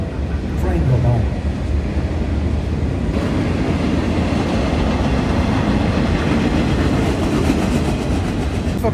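A train rolls past near a cavalry monument, a loud, steady rumble and rattle of rail cars that fills the whole stretch, with people talking faintly beneath it.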